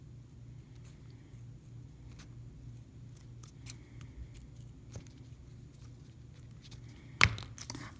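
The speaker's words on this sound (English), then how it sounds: "cutting it out with scissors." Scissors snip through thin enamel pendant material in a quiet room, soft repeated cuts with light crunching and a sharper clack near the end.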